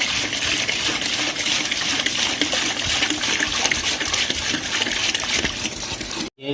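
Water poured from a bucket into the sump of a mixed reef tank, a loud, continuous splashing gush held steady for several seconds before it abruptly stops.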